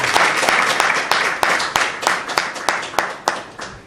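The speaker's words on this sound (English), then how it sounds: "let's give them a big round of applause" An audience at a football event launching a women's super cup and an under-17 champions league claps in a steady, rather close burst, with distinct sharp individual claps standing out over the general applause.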